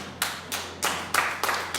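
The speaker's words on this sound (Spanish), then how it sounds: "Denme un aplauso" Slow rhythmic claps at a Spanish-language church service, about six sharp distinct claps spaced roughly a third of a second apart, close and clear with no talking.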